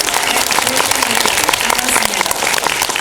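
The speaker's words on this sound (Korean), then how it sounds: "우리 박수 한 번만 감독님께" An audience at a Korean film screening Q&A applauds the director with a short burst of loud, dense clapping, filling the space with no clear voices.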